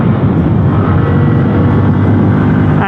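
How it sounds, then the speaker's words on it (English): A Bajaj Pulsar NS160 motorcycle engine revving hard in first gear, a loud, dense roar that stays close and constant with no speech over it. "Very loud engine, guys,"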